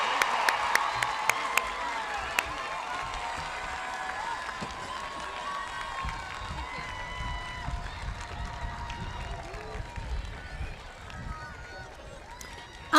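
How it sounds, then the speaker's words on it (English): Crowd applause and cheering for Class of 2026 graduates at a Licking Heights high school commencement, a steady wash of clapping with scattered shouts that slowly thins out over the span. "As our graduates make their way back to the seats, give them one more round of applause."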